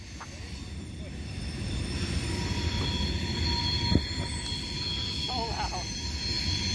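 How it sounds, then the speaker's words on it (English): A train rolls past with a steady, loud rumble, its wheels squealing in long, high-pitched tones, and a sharp clank sounds partway through. "I'm glad there's a fucking train."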